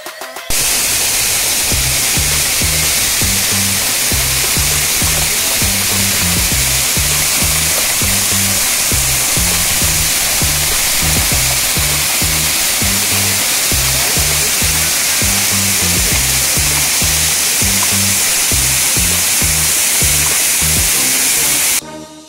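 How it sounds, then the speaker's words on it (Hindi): The 100-foot main fall of Bada Ghagara waterfall in Kendujhar, Odisha, roaring as a loud, dense, continuous rush of falling water heard close up and alone. "ये है मेन वाटरफॉल जो कि 100 फीट के अबव से वाटर गिर रहा है"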